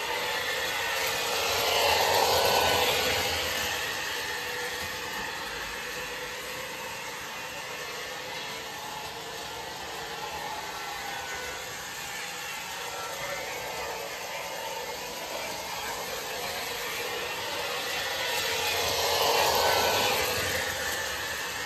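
A 1970s Williams model train locomotive, fitted with a Blunami 4408 decoder, runs at about quarter throttle, giving a steady whirring motor hum that swells slightly at the start and end as it passes close by, with no talking.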